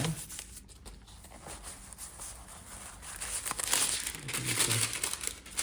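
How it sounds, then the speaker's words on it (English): Steady crinkling and rustling of a sheet of parchment paper laid over puff pastry, close and continuous, growing louder in the second half with brief soft thumps. "Now I'm going to take another piece of parchment and cover this over."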